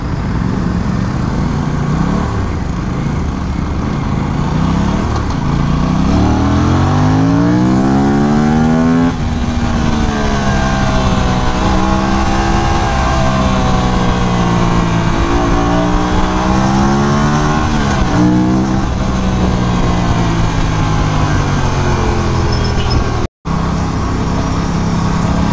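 An Aprilia RS 457 motorcycle revs hard and sweeps past loud and close, its engine pitch climbing and dropping through gear changes as it roars by, with a sharp cut near the end.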